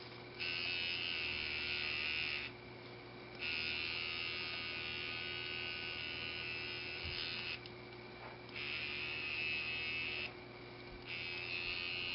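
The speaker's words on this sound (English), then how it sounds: "these vibration motors aren't meant to be driven for longer than a few seconds at a time" A small vibration motor switched on by an infrared trigger buzzes steadily in bursts of a few seconds, with brief gaps between runs, a faint even electric drone with background hum.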